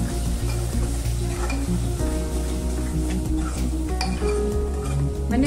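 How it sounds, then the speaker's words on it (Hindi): Spices and dry fenugreek stirred and roasted in a pan for chole: loud continuous sizzling with scraping stirs and occasional clinks of the utensil against the pan, close by and without speech. "मैंने मसालों को अच्छे से भून लिया है"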